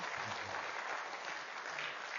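An audience at a church gathering claps for Ronel in a steady, even round of applause, fairly faint and with no pauses.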